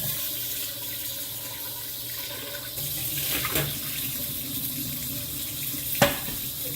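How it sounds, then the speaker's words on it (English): Tap water runs steadily into a kitchen sink during handwashing, a close, even rushing stream with a soft shift midway and a single sharp knock near the end. "And I began by washing my hands."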